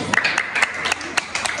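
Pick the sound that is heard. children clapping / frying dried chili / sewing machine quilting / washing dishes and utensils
children clapping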